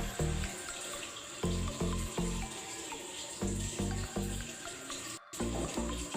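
Hands being washed with soap under running tap water: a steady splashing stream broken by short rhythmic rubbing and sloshing bursts, close and fairly loud.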